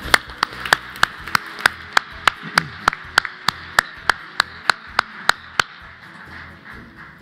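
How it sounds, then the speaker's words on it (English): At an awards ceremony, sparse, slow clapping plays after award recipients are named: about twenty distinct, evenly spaced claps over roughly six seconds, then stopping and leaving faint room noise. "let's give them a round of applause"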